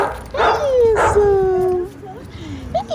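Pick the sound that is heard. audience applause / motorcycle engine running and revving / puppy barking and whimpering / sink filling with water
puppy barking and whimpering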